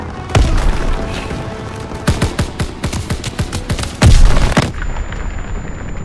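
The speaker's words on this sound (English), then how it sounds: "Tossing out a grenade!" Grenade explosion in the video game Call of Duty WWII, a heavy close blast that stands out from a rapid run of sharp gunfire cracks and battle noise around it.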